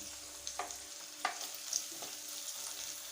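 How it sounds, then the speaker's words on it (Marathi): Chopped onion frying with garlic in a pan, a soft steady sizzle broken by a few sharp clinks and scrapes of a spoon stirring, close and fairly quiet. "कांदा पण छान परतून घ्यायचा"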